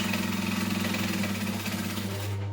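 A sewing machine back stitches along a fabric edge, giving a close, fast, even mechanical whirr that runs without a break and trails off at the very end.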